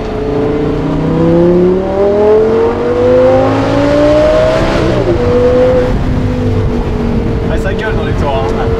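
An Audi R8 V10 engine revs hard and loud, its pitch climbing steadily high before dropping sharply and settling into a lower, steady drone.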